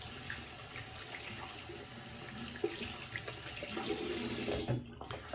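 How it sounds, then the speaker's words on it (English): Hands are rinsed under a running tap as a steady, close hiss of flowing water, with brief splashes and gurgles near the end. No one talks. "Rinse my hands."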